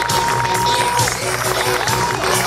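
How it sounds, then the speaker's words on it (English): A dense, loud crowd roar at a baseball opening day, with applause and cheering for the farm teams blending into a continuous wash of noise, while a faint sustained tone sits underneath. "And a big round of applause for all of our farm teams"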